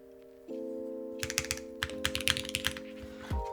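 Mechanical keyboard clicks from a Haven60 with its screws loosened, a quick run of close, crisp keystrokes and clacks over a steady electronic hum, ending in a heavier spacebar-like thunk.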